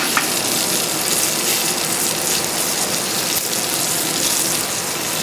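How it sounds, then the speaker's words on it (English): Onions sautéing in a pan for fish Lyonnaise, a loud continuous crackling sizzle with fine popping throughout and no talk. "And this is sauteing well."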